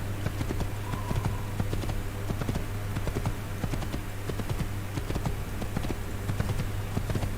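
Horse hooves clip-clop at a brisk, steady rhythm while riding in the video game Assassin's Creed, close and clear over a low constant hum.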